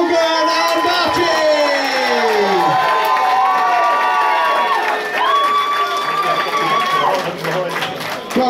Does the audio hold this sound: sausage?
no